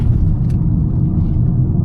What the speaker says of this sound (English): I don't press on any gas, so it drives, actually it rolls down the road